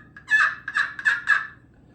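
Hand-tuned Ceramic Mistress slate turkey call worked with a one-piece striker, giving four quick, loud, raspy yelps in an even rhythm, close up with no talking.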